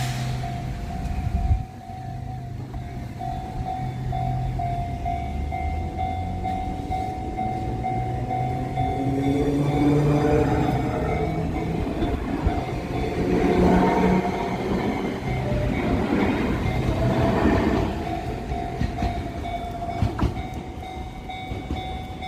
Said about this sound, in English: I guess I need to wait until the train passes